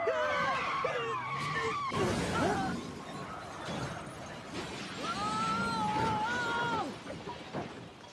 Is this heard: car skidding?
yes